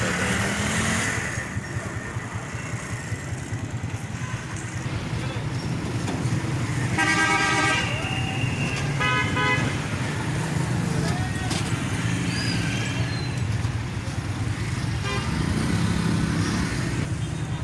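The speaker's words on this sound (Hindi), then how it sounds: "ये अब ट्रैफिक जाम का मंजर है, ट्रैफिक बहुत जाम रहने लग गया।" Congested road traffic in a jam, with car horns tooting repeatedly over a constant rumble of engines and motorcycles, dense and continuous, with voices in the mix.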